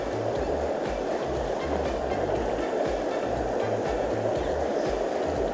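Small rapids in a mountain creek rush past close by, a steady broadband roar of flowing water with no break across the whole stretch.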